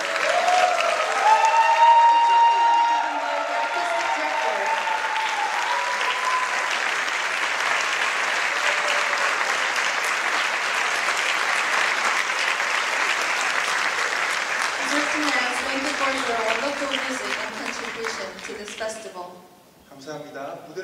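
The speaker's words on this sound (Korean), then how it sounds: "여러분들 선사했던 엘카페 코랄에 대한 뜨거운 박수 부탁드리겠습니다" A concert audience gives a choir long, warm applause at the closing concert of the Jeju International Choir Festival, a dense sustained ovation filling the hall, with a host speaking over it at the start and as it fades.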